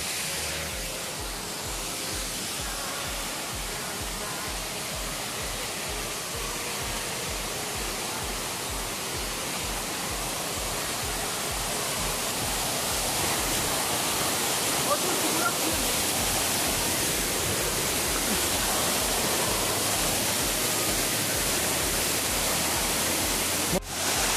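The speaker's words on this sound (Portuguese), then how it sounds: "Chegamos aqui na cachoeira." A waterfall in Brazil roars in a steady, dense rush of falling water that fills the whole scene without letting up, heard close with people talking faintly beneath it.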